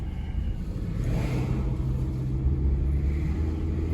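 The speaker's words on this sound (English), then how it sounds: "There you go, we're driving the Camry." A Toyota Camry, recently fitted with a new ignition coil after a misfire, drives along with a steady low engine rumble and road noise that swells slightly partway through, with no talking.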